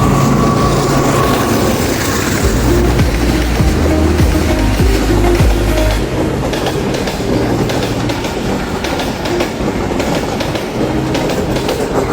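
Passenger train 102 Down, Rawalpindi to Lahore, passing into Missa Keswal railway station in Pakistan, a loud continuous rumble with rhythmic clickety-clack of wheels over rail joints, very close and steady throughout.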